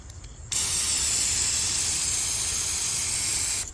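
A pressurized off-road water tank with an adjustable spray nozzle shoots water, starting with a sudden onset after a short quiet moment, then a steady loud hiss that holds before cutting off near the end.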